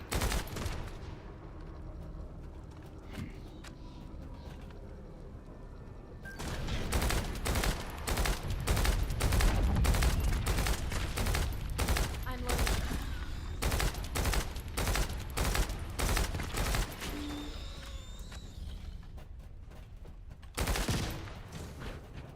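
Burst gunfire from a weapon in The First Descendant, firing in repeated short, sharp volleys that carry on loud and rhythmic for about fifteen seconds after a quieter lead-in.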